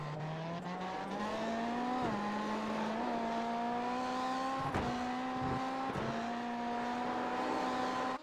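A Ford Fiesta rallycross car in a sim racing game at Daytona short RX, its engine holding a steady sustained drone with brief dips and pitch shifts at gear changes, fairly faint and without talk.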